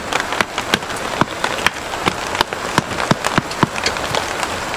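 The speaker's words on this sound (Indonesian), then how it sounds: "hujan" Rain falls outdoors beside a cooking fire made with bamboo, giving a steady patter with sharp, irregular drops hitting nearby surfaces, and no talk over it.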